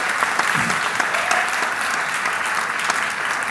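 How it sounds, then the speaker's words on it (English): An audience breaks into dense, sustained applause after a magic trick, clapping loudly and evenly throughout, with a brief voice buried in the noise. "Give these ladies and gentlemen a big round of applause."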